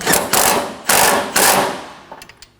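Bolts on a Scion xB 2.4L engine being snugged down with a ratchet: several bursts of rapid clicking, close and fairly loud, ending in a few light metallic taps.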